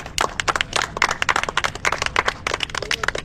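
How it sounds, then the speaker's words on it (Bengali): A small group claps at a prize giving during a bike-ride outing, giving quick, irregular, sharp hand claps close by that keep going without a break. "হাততালি।"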